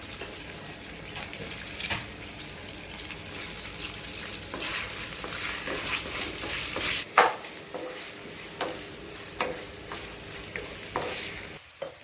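Sliced onion fries in a pan with cinnamon and other whole spices, a steady near sizzle punctuated by stirring clatters and a few sharper knocks, with nobody speaking.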